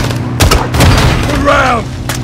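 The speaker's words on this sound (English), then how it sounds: "Guys, hit them with the launcher." Heavy explosive blasts and gunfire during a Call of Duty Modern Warfare II firefight, a rocket launcher round slamming home among booming impacts, with a voice calling out under the din.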